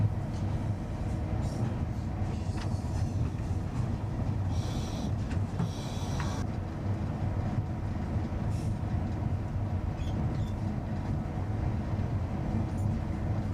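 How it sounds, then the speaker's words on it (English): A big train runs steadily along the line, a continuous low rumbling drone of engine and wheels heard from inside the cab, with brief hissing bursts midway and no clear talk. "our train continues on its way"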